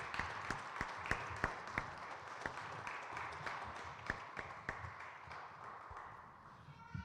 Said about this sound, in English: How about one round of applause one more time?